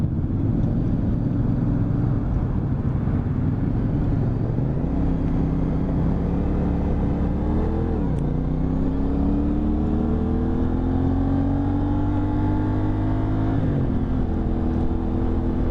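A 2023 CFMoto 450SS motorcycle engine revs steadily and climbs through gears, its loud, continuous drone dropping briefly at each shift before rising again, close and alone with light wind noise.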